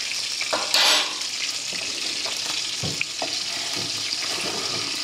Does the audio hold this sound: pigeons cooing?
no